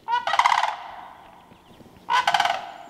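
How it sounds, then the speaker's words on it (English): Sandhill cranes call in spring, two loud, rolling trilled bursts close by, separated by a short pause, with no speech. "Another sound that is becoming more common, announcing that spring is here, are the unmistakable trills of sandhill cranes."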